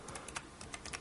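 Typing on a computer keyboard while entering a command to unlock a Motorola Atrix phone: a quick run of light, close key clicks with a quiet steady background and no speech.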